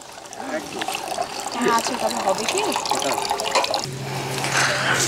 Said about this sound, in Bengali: জল ভরা কমপ্লিট